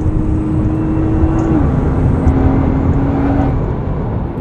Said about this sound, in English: Full throttle through 4 towards 5 and 6, which the GTR takes with loads composure.